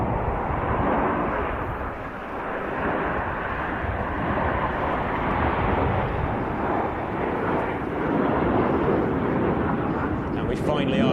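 Nine aerobatic display jets roar through a formation barrel roll at an air show, a loud, steady broadband jet rumble sustained throughout with a crowd voice faintly beneath.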